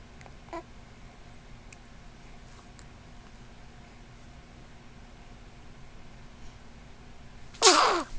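A 2.5-month-old kitten gives a single sharp sneeze near the end, close and loud, after several quiet seconds of faint room hiss.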